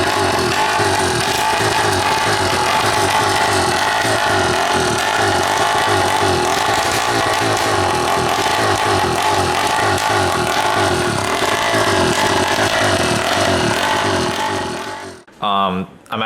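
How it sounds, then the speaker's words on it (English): An older motorcycle engine fires up for the first time and idles steadily with a loud, close, pulsing exhaust rumble before cutting off abruptly at the end. "here's an older clip of the bike running. This was the first start with the motor."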